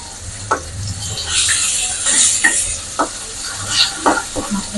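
A coral fish head frying in hot oil in a wok for a bean curry, a steady close sizzle broken by sharp spatters and the scrape of stirring, loud and with no voices.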